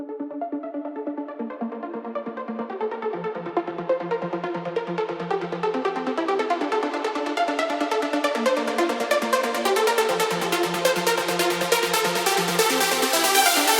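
Layered uplifting trance synth leads built in Cubase with an LFO modulating a wavetable, a bright melodic line that swells in density and brightness over about fourteen seconds, played alone without voices.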